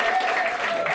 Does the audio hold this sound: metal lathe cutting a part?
no